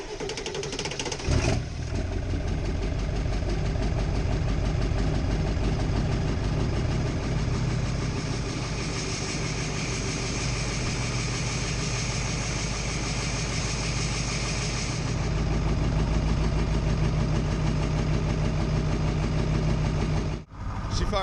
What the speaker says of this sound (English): She fired right up, didn't even struggle at all. And now she's kicking into her high idle.